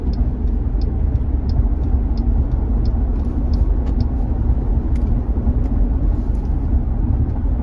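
A Jeep 4xe plug-in hybrid accelerating hard and then cruising produces a loud, steady low road and engine rumble from inside the cabin, with faint ticking clicks above it.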